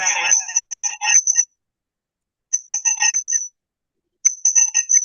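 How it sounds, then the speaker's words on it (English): A bird calls repeatedly in three separate bursts of high, chirping notes separated by silent gaps, clear and fairly close. "But there's a bird in the background."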